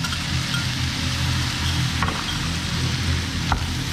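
Fried rice sizzles steadily in a hot pan after fish sauce is added, with a continuous loud hiss and a couple of faint utensil clinks against the pan.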